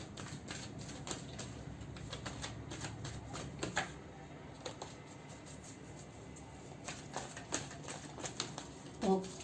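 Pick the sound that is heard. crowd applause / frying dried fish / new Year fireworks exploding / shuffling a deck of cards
shuffling a deck of cards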